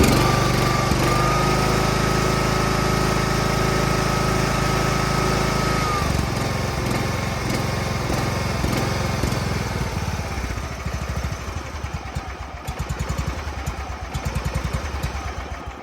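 A John Deere 318 garden tractor engine runs steadily and loud close by, its speed hunting up and down, then settling into a rougher, pulsing idle.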